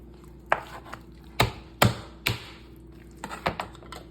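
A sharp knife chops through chicken on a cutting board in a kitchen, a series of hard, separate thwacks at irregular intervals, close and loud against a quiet background.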